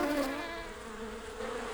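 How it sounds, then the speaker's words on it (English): Cartoon bees buzzing busily around flowers in a field, a continuous, close, wavering insect drone that swells slightly at the start and end, with no talking. "The bees were still buzzing busily from flower to flower in the field."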